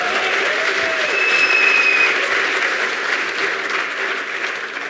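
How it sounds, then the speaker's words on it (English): Audience applause during a technology keynote: dense, loud, sustained clapping from a large crowd that holds steady, with a brief cheer or whistle partway through. "Thanks for clapping. It's keeping me encouraged"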